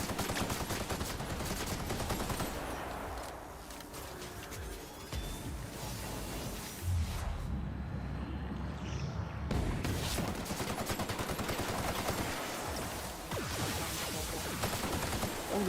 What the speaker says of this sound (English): I guess I just gotta pepper him with bullets till he's dead.